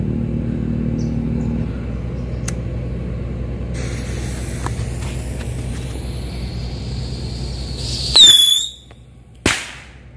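A winged rocket firecracker launches with a rising whoosh, then a sharp loud bang follows about a second later, outdoors after a stretch of low ambient rumble.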